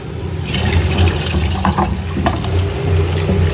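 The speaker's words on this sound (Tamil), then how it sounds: "நம்ம வந்து இதை கொஞ்சம் கழுவிக்கலாம் ஃப்ரெண்ட்ஸ்." Tap water runs steadily and loudly close by while something is rinsed at a sink, a continuous splashing rush with no talking.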